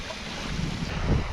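Strong gusting wind buffeting the microphone on open water during bass fishing: a continuous loud, broadband roar with rumbling low gusts and no voices.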